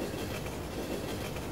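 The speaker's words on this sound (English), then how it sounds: "Some of these trains are incredibly long trains." Long trains roll past steadily in a train-spotting video game, a continuous dense rumble of rail noise with no breaks, loud and close throughout.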